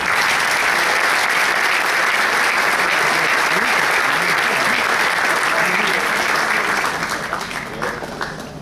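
Dense, sustained applause from an audience at a talk on basketball defense, steady and loud for most of the stretch before thinning slightly toward the end.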